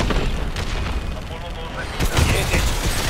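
Gunfire and explosions from a Call of Duty: Advanced Warfare campaign battle, dense continuous shooting with booms and a louder burst partway through, Spanish voice chatter mixed into the game sounds.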